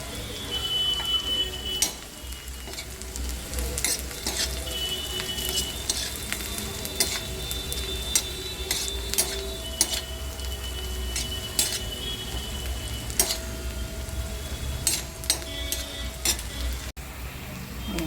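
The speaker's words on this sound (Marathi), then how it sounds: "मस्त याची आपला कांदा भाजून येते" Onion frying in a pan while being stirred, a steady sizzle running throughout with frequent scraping and clinking strokes of the spoon against the pan, close and continuous, with no talk.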